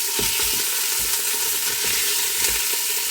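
Duck pieces fry in a pan, a steady close sizzle with soft irregular crackles and pops, no voices.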